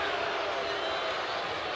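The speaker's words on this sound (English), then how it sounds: "Listen to this crowd." Dense, steady crowd roar fills a college basketball arena during a South Carolina vs Missouri NCAA men's game, a loud continuous wash with no distinct claps or bounces standing out.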